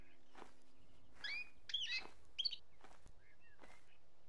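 Scattered bird chirps and short tweets sound faintly across open steppe, several calls spaced irregularly over a quiet windy background with no talk.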